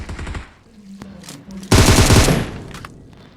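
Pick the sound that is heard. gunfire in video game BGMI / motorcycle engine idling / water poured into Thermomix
gunfire in video game BGMI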